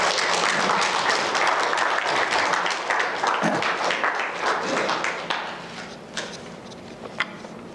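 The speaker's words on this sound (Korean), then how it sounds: "우리 나오실 때 환영의 박수로 맞이할까요?" A church congregation gives welcoming applause for a guest preacher at a Sunday service, a dense, lively burst of clapping that thins out into a few scattered claps as it dies away.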